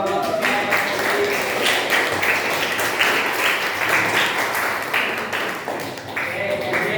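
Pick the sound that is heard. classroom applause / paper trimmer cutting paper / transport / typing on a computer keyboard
classroom applause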